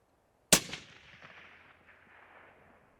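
A single long-range rifle shot cracks sharply and loudly, followed by a fading echo that rolls across open terrain for a couple of seconds, with no voices.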